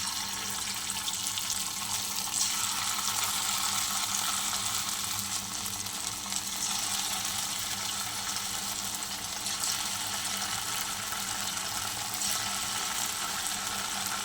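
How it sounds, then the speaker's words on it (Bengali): Chicken pakoras fry in hot oil for chilli chicken, producing a steady, continuous sizzle at moderate volume with no talking. "চলো পকোড়াগুলো ভেজে"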